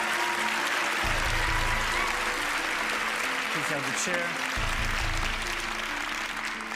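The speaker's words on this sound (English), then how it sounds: "Please give a big round of applause" An audience claps on the stage of the Penn & Teller: Fool Us magic show, a steady wash of applause mixed with a musical sting, while someone speaks briefly over it.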